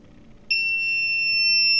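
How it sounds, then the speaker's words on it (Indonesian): Buzzer of a flame sensor monitoring system in a server room sounds a steady, loud, continuous electronic tone that switches on abruptly and holds without a break. "Dapat dilihat buzzer menyala dan sistem dan aplikasi Blink mengirimkan bahwa api terdeteksi."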